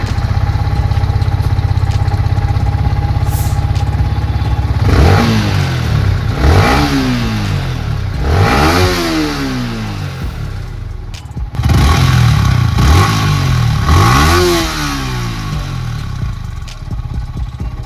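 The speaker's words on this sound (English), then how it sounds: "so I'll show you how the throttle responds now." A Yamaha MT15 motorcycle with a freshly cleaned throttle body idles with a steady low rumble, then gets about five sharp throttle blips that rise and fall quickly, with a short pause before the last two.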